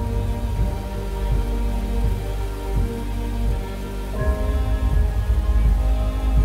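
Rain falls steadily on a surface, a dense continuous patter with low rumbling beneath, heard alone without voices.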